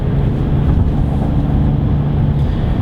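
Inside the cabin of a 2019 BMW X5 40i xDrive, a steady low exhaust drone mixes with road rumble, loud and continuous with no breaks.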